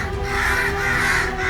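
A flock of many crows caws in harsh, overlapping calls, loud and close, filling the whole short stretch without a pause and with no voices.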